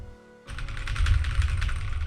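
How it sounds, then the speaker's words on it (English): Rapid computer keyboard typing starts after a brief quiet lead-in and carries on as dense, irregular clacking close to the mic, with no voices. "You hear my keyboard?"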